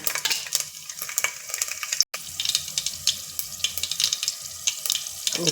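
Garlic crackling in hot oil during a tempering with mustard seeds and cumin, a steady close sizzle with scattered pops and a brief stirring clink, no talking.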